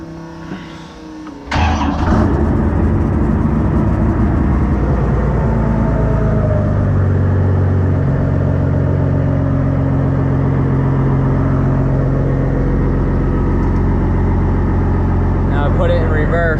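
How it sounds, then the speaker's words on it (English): A Cummins diesel engine swapped into a monster truck cranks and catches after a short pause, then settles into a loud, steady, rumbling idle close by, while people talk over it. "Start the truck."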